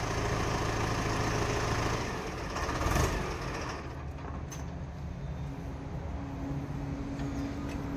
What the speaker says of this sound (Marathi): हे आहे मित्रांनो 605 DIMS ची फायरिंग, तुम्ही ऐकू शकता.